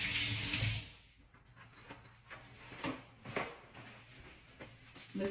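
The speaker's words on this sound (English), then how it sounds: "So I'm going to wash my hands," Hands washed under a running kitchen tap, a soft steady hiss of water with faint splashes and small clatters, fairly close and quiet, with no talking.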